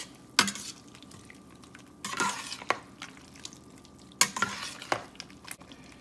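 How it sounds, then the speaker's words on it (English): Curry powder frying in a pan for an oyster mushroom and vegetable coconut curry, being stirred: a low sizzle under three bursts of scraping and clattering utensil strokes against the pan, close and fairly loud, no talking. "3 overflowing tablespoons of curry powder. Let's give that a mix up here"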